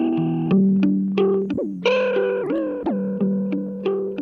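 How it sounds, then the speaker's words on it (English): A melodic line through a Chase Bliss Lost + Found pedal with speed all the way down and modify all the way up: wobbly, fluttering notes sag and waver in pitch, with short glitchy blips between phrases, close and alone. "then you get this kind of very fluttery sound"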